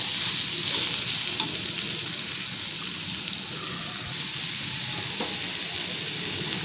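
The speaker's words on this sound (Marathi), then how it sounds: "ते दोन मिनटं मी परतून घेते" Dandi sukat, a dried fish, sautés with salt and spices in a pan, a loud, continuous, even sizzle with faint stirring scrapes and no talking.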